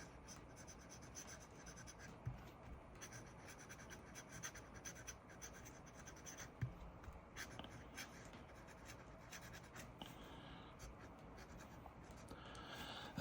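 A fountain pen with a medium nib scratches steadily across paper, a continuous close, dry rasp with small irregular strokes and no voices.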